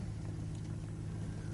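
A vehicle idles slowly along a dirt two-track road across a Florida prairie, its low engine rumble steady and even over the whole stretch, with no voices.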